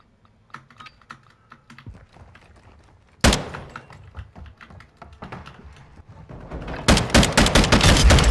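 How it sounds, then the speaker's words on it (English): Sharp pistol shots in a first-person video game, several loud cracks arriving in quick clusters, heard over the steady clatter of a computer keyboard. "Nice pistol shots there."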